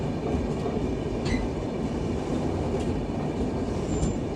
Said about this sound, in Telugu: ఇప్పుడు ట్రైన్ అయితే స్టార్ట్ అయిపోద్ది.